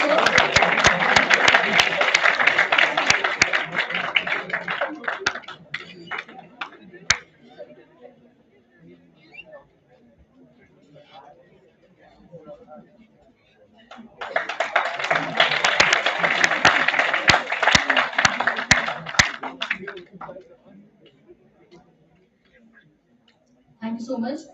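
Seminar audience gives a speaker two bursts of loud applause, about six seconds each and separated by a quieter stretch of scattered sound, with a brief clap at the end.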